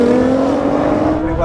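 A Lamborghini Huracan, Audi R8 and Nissan GT-R launch off a drag race start, engines droning loud and steady with a rising tonal whine, while a voice talks over them.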